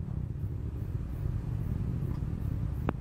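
The main engine of a Delta II rocket, flying the Orbiting Carbon Observatory after its solid boosters have separated, gives off a faint, steady, distant low rumble with no breaks.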